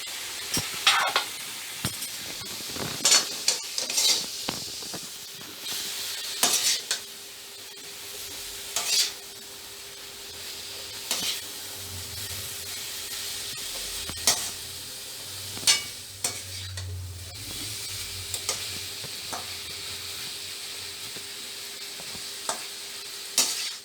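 Boiled cassava stirred in a pot, with scraping and clinking strokes coming in irregular bursts over a steady soft sizzle, close and moderately loud, with no talk.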